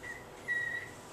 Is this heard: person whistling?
yes